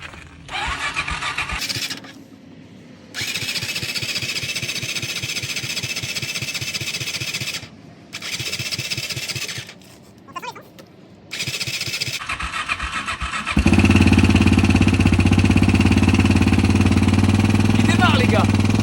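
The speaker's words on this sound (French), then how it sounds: "Incroyable, il démarre." A motorcycle engine being started after a repair, with repeated starter cranking in bursts broken by pauses, then the engine catching into a loud, steady running roar for the last five seconds.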